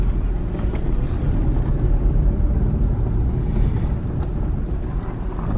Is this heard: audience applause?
no